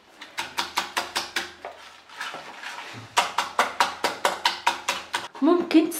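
Chilled cream whisked by hand with a manual whisk in a bowl, giving quick, evenly paced metallic clinks and scrapes in two close bursts, with a short pause between them.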